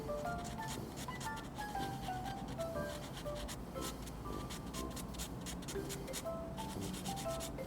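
Hardened putty on a plastic model being sanded down, a steady continuous rubbing scrape that runs the whole time at close range, with faint tonal background sound underneath.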